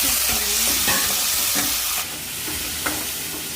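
Masala with ginger paste and tomatoes fries in a pan, a steady loud sizzle with spatula scrapes and knocks, the hiss shifting in character partway through as stirring continues.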